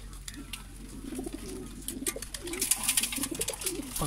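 Several breeder pigeons in Pakistan coo in soft, repeated throaty phrases close by, with light chirps and rustling in the background.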